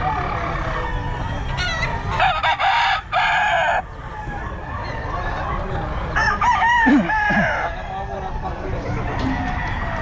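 A bullstag rooster crows at a busy pet market, with two loud, close crows partway through and other fowl clucking and honking around it, while people talk throughout.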